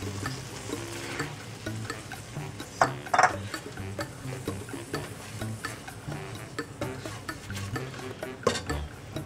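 Lime juice poured into a sauce simmering on low heat for garlic honey chicken wings, with soft sizzling and stirring, occasional spoon and pan clinks, and a sharper splash partway through.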